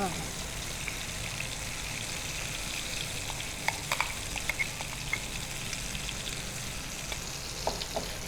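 Bangude mackerel coated in masala sizzles steadily in hot oil in a pan, a continuous crackling fry with scattered sharper pops and spits throughout.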